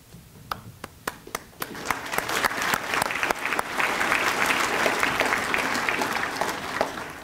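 Audience applause fills the room at a community heroes dinner in Siouxland, starting with scattered individual claps that swell into sustained, dense clapping from a sizable crowd, steady and fairly close.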